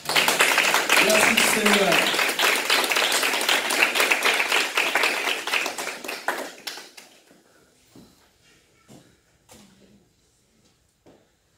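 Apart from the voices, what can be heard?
congregation clapping and acclaiming Jesus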